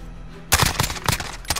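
Gunfire in a shooter video game breaks out after a brief quiet lead-in, with rapid bursts of loud, close shots in an uneven automatic rhythm.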